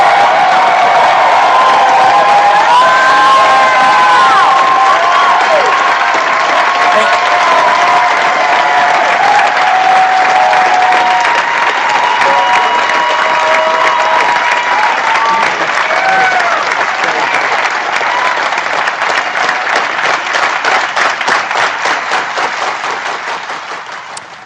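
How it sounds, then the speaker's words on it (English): A large audience breaks into sustained, loud applause after a speech, a dense wash of clapping that holds steady for over twenty seconds before tapering at the end, with faint cheering and voices mixed in. "I didn't edit that applause at all."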